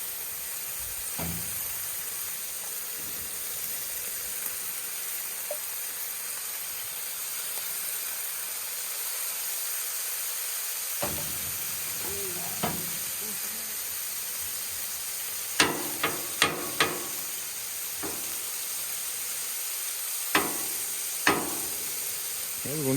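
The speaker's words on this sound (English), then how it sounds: "And now we're going to add the shrimp. Put just a little bit more oil down." Shrimp sizzling in a little added oil on a Blackstone griddle, a steady broadband hiss throughout with several sharp clacks of a spatula or utensil on the metal, mostly toward the end.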